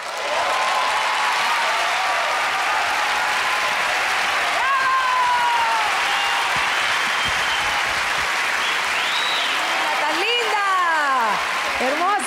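A concert audience applauds a singer with loud, sustained clapping that carries on without a break, joined near the end by whistles and cheers from the crowd.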